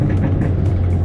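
A tuned Audi S3 driving down the street in dynamic S mode gives a steady, close interior engine drone and road rumble, with a faint pulsing of wind noise.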